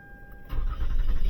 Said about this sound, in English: So the vehicle does start up.